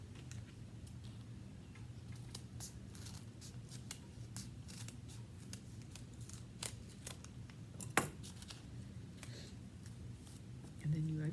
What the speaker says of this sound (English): now you're going to cut that line